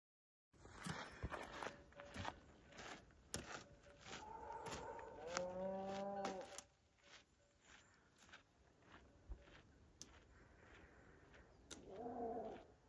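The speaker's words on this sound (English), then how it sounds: "It's cows." Several cows moo with deep, drawn-out calls near a hillside cross on a Camino Francés walking trail, a long low moo in the middle standing out over footsteps, breeze and scattered clatter, with another lowing call near the end.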